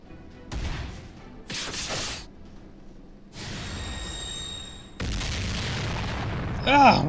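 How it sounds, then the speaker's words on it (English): Enemies explode in the mobile game Fate/Grand Order with a series of booming, crashing blasts separated by short gaps, followed by a sustained roar and a bright rising effect at the end. "Oh, we got the little bastards and they up and explode on us."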